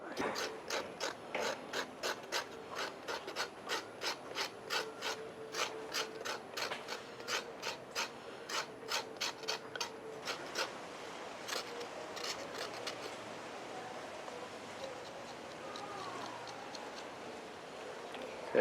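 Cinnamon bark being scraped with a blade, a regular series of crisp scratchy strokes repeating at an even pace, close and fairly quiet, fading into a softer rasp toward the end.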